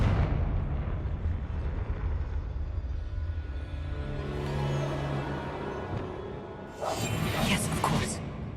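A Confringo blasting spell goes off in a goblin mine in Hogwarts Legacy, a sharp bright burst with a whooshing crackle near the end, following low rumbling ambience and occasional game speech.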